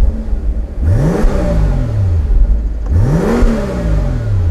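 A Maybach car engine revs twice nearby, each burst rising sharply then falling back to a steady idle, loud and close with no one talking.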